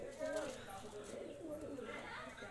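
An Andhra pigeon coos softly in a loft, its low, rolling calls partly masked by people talking nearby.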